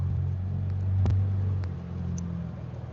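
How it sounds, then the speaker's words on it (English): A loud Duramax diesel pickup truck engine rumbles low and steady, swelling slightly midway, with a few faint clicks on top. "I have the loud truck here."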